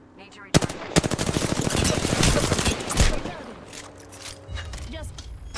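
Rapid automatic gunfire from a video game, a loud sustained burst of shots lasting a couple of seconds before fading to scattered quieter noise, with a player talking over it.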